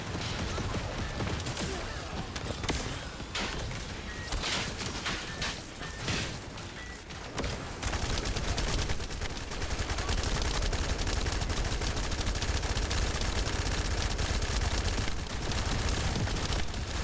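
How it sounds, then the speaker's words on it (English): Flak cannon fire in the video game The First Descendant, a dense, continuous barrage of loud mechanical shots with rattling, clanking texture that gets heavier and steadier in the second half. "Man, you and your flak cannon."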